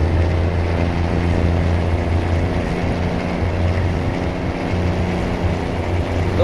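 Truck with a horse trailer driving in Euro Truck Simulator 2, a steady loud engine drone with low harmonic hum, continuous and unchanging throughout.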